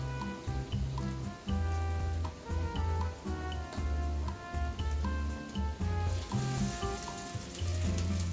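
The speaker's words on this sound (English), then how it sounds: "I'm about to pour the eggs in the skillet in the griddle" Eggs sizzle and fry in a skillet on a griddle, a steady close crackle with small pops running throughout, with no talking.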